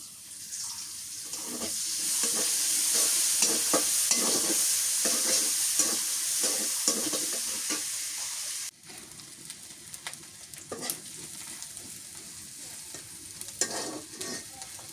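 Chopped onion and green chili fry in mustard oil, a loud close crackling sizzle with stirring scrapes, then a sudden drop to a quieter sizzle with intermittent clatter for the rest.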